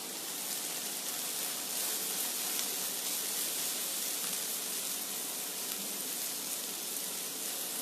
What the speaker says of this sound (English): Now into this I am also adding a small bit of ginger garlic paste